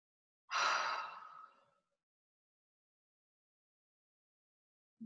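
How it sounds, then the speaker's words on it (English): A single slow, deep exhale during a relaxed breathing exercise, soft and close, trailing off into silence. "One more round of breath."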